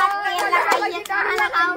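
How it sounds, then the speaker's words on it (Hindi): Audience claps for a contestant at a lively rope-pulling prize game, with a few sharp hand claps scattered among loud, overlapping voices and chatter. "इनके लिए ताली हो जाए"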